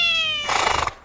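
A cat lets out a single drawn-out meow, starting as a clear tonal cry and breaking into a rough, raspy wail before stopping abruptly.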